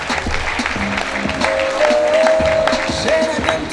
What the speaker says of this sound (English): Can we clap for him, please?